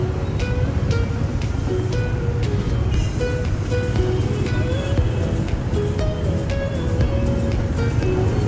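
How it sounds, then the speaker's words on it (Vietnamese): Busy evening street traffic in Saigon, dense motorbikes and cars crowding a narrow lane, rumbles steadily with low engine drone and passing vehicles close by, and brief horn-like tones cut through now and then. "xe máy và ô tô đang chen chúc nhau trên làn đường chật hẹp"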